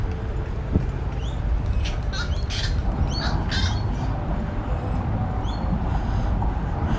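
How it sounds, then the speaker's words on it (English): Bird squawks and calls ring out at a beach at sunset during a festival, several bright chirps scattered over a steady, dense background of crowd and ambient noise. "Some of the birds are starting to get ready to roost for the night."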